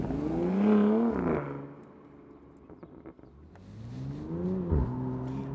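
A Bentley Batur convertible's engine revs up, settles to a low idle with crackling exhaust pops in between, then climbs again in a second rev, heard close and loud without talk.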